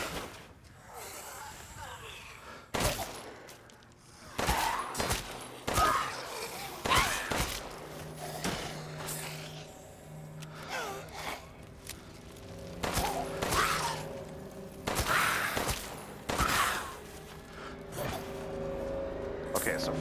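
Several gunshots fired at an enemy in Resident Evil Village, sharp separate bangs spaced unevenly across twenty seconds amid game thuds and ambience, with a voice talking between them.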